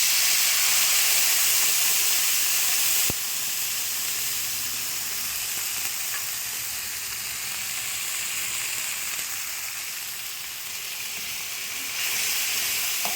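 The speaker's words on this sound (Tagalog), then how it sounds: "Gigisa ko lang siya sa tuna." Tuna sizzles steadily in a hot pan for pasta, a loud, continuous close hiss that drops slightly in level partway through, then swells again near the end, with no voices.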